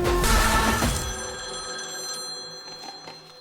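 A telephone rings while someone calls Ramya, one loud electronic ring with a bright tonal pattern that quickly fades into a lingering tone.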